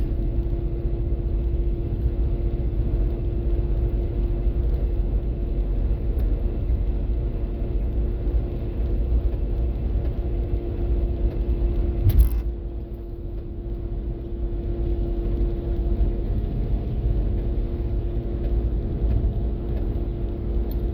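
Steady low engine and road rumble inside a 2003 Jeep Liberty holding speed on cruise control, an even drone throughout with one brief thump midway.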